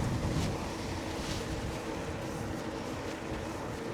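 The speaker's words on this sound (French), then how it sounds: "Oh non, le vent!" Strong storm wind on a farm roars and buffets the microphone in a dense, continuous rush, loud and unbroken for a few seconds.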